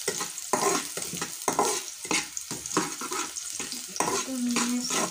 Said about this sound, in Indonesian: kita goreng ya bawang putih dan bawang merahnya